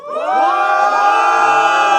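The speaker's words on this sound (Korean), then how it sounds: "함성이 약간 내향인 느낌이 있긴 맞아" Studio audience at a live KBS radio broadcast whooping and cheering on cue, a sustained, bright chorus of voices swelling quickly and holding loud for two seconds.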